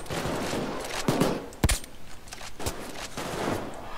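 Gunfire in Payday 2 rattles in scattered bursts and single sharp shots, with one especially loud crack near the middle against a busy background of action.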